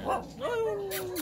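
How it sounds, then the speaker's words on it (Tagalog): A single short dog yelp followed by a drawn-out whine, close and moderately loud, from a guard dog at a backyard pig pen. "may aso dito guys kasi tagabantay siya ng mga baboy"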